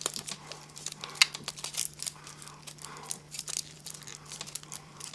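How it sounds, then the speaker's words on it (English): Tape crinkles and tears faintly as it is wrapped around a crumpled paper ball for a homemade Irish drum, with scattered soft crackles and crunches over a steady low hum. "wrapping tape to hold all the sides together to make the ball stay"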